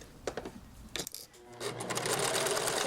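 A sewing machine stitches a seam on a long-sleeve bolero, first a few short stop-start runs, then a steady fast continuous whirr, close and clear with no talk.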